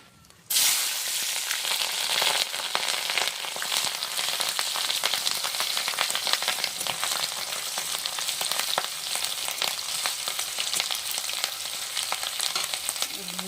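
Torn green chilies sizzle and crackle in hot oil as they are stirred in a pan while cooking khesari greens, a loud, steady frying hiss that kicks in abruptly and runs unbroken with no talking.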